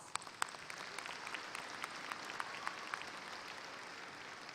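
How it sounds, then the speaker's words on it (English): At a Texas A&M University-Corpus Christi summer commencement, a large hall audience applauds the Islander ambassadors and association members, a faint, distant, even wash of clapping that holds steady throughout. "Let's give them a round of applause."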